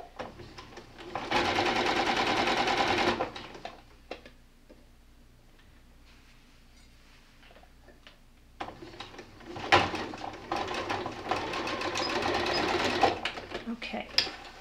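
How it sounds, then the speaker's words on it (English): A sewing machine stitches along a crease in fabric for a pet bed in two sustained whirring runs, separated by a quieter pause with light ticks and handling clatter. "That's exactly where I'm sewing."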